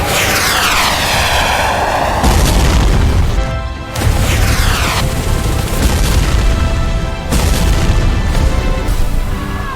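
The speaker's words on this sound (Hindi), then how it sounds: "रॉकेट दागो उन पर। और रॉकेट चलाओ।" Cartoon rockets fire and explode in an ant war battle, with loud roaring whooshes and booming blasts that swell and cut off abruptly in a dense, continuous barrage.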